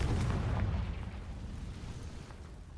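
A fiery blast from the Confringo spell in the Hogwarts Legacy video game, a loud rumbling boom that bursts at the start and then decays into a sustained low roar.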